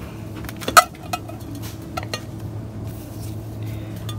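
Ceramic plates handled on a store shelf give a sharp clink near the start and a few lighter knocks, set against a low, steady hum of shop background noise.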